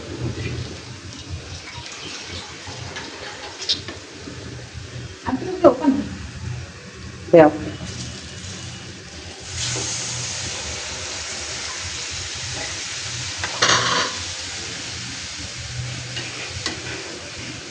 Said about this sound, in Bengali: অল্প একটু পানি দিচ্ছি।